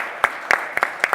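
An audience at a talk on soft power and cultural diplomacy claps, a sparse, close patter of separate hand claps with a few irregular beats over a hiss of room noise.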